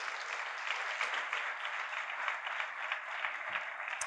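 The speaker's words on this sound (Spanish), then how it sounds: "Démosle una ofrenda de palmas al Señor," A church congregation applauds together in a Spanish-language service, producing steady, dense clapping that fills the whole stretch at moderate volume with no talking over it.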